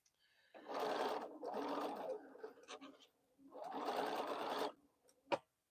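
A sewing machine runs in two short bursts with a rapid, close whirring hum, separated by a pause and followed by a sharp click, while the stitching fails to catch.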